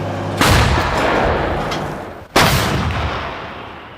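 Two loud, sharp blasts from a self-propelled artillery gun about two seconds apart, each followed by a long rolling rumble that slowly fades.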